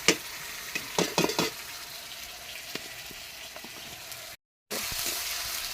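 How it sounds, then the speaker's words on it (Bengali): Onions fry in hot oil for dal, a steady close sizzle with a few sharp stirring clanks at the start and a brief dropout near the end. "তেল গরম হয়ে গেছে, এবার পেঁয়াজ দিয়ে দেবো।"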